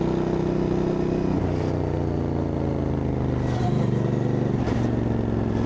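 A 2025 Royal Enfield Interceptor Bear 650 motorcycle ridden on a damp road: a steady, loud engine drone with throttle easing back and a few gear-change dips, wind rushing throughout.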